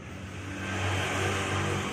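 A Kawasaki Ninja SS motorcycle engine runs close by, a steady rough mid-pitched drone that swells slightly and holds.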